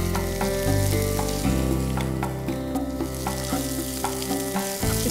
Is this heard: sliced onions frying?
yes